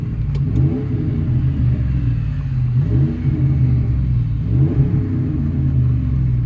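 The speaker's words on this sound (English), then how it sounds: "Inside this Dodge 1500, let you guys hear it." 2011 Dodge Ram 1500 with a 4.7L V8 and Flowmaster 40 Series exhaust, heard from inside the cab: a loud, deep, steady engine rumble with a couple of gentle rises in revs and no talking.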